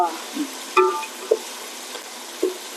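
Ginger masala frying and being stirred in a pan for mutton biryani, giving a steady close sizzle broken by a few distinct scraping stirs.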